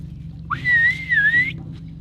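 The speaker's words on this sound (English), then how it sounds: "The Hadza use a series of whistles to signal to one another." A Hadza person whistles a sustained, wavering signal tone for about a second, rising and dipping in pitch, heard clearly over a low steady background hum.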